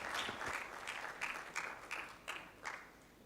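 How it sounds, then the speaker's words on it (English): Scattered audience applause follows a speech at a justice-sector review meeting, a few claps merging into a soft, moderately distant wash that fades in short pulses. "A big hand of applause to these critical statements that we need to internalize."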